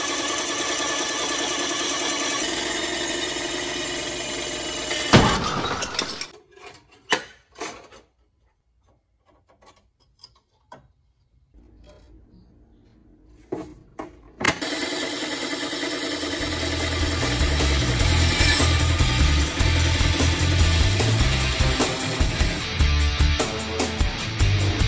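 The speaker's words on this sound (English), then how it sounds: "So that so far is my most efficient way of cutting through this 3/4 inch thick chunk of aluminum" A saw blade grinding through a thick three-quarter-inch slab of aluminum, loud and harsh. It cuts out into quiet with a few clunks and then starts again, running steady and strong.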